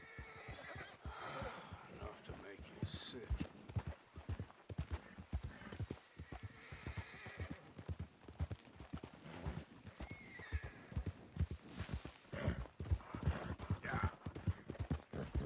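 A video game horse neighs and whinnies over steady clip-clop of hooves, rhythmic and close, with people talking over it throughout.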